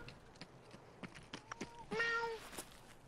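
A cat character wearing a cowboy hat in a video game gives a single clear meow, preceded by faint clicks and taps in an otherwise quiet scene.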